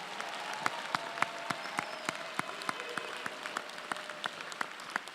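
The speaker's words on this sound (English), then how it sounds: "Once again, a round of applause to all of our student scholars." Applause from a university honors convocation audience for student scholars, a moderate wash of many hands with distinct individual claps standing out in a loose rhythm, heard from a middle distance without talking.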